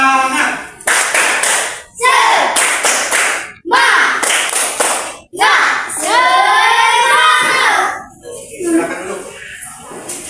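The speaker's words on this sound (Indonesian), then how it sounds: "Tepuk semangat." A classroom of students doing a rhythmic group spirit clap, sharp clapping bursts in patterned sequences mixed with loud chanted voices, close and energetic.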